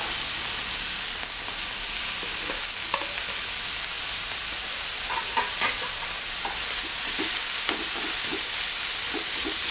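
Celery and onion sautéing in a pan make a loud, continuous close-up sizzle, with scattered light clicks and scrapes from stirring throughout.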